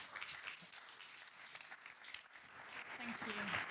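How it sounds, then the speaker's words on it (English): A room of about 250 people at an in-person business talk gives a round of applause, a faint, fairly even patter of clapping that builds slightly toward the end, with a voice briefly heard. "can we have a round of applause for Brigid, please?"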